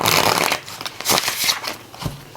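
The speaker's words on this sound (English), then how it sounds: "you can see this one shuffles a lot more easily" Thin-cardstock tarot deck being shuffled, a run of soft riffling card bursts and slaps close up over about two seconds, no voices.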